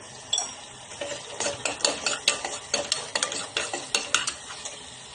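Masala sizzling in hot oil in a pan for aloo mutter kurma, stirred with a utensil that scrapes and clinks in a steady rhythm over continuous close frying noise.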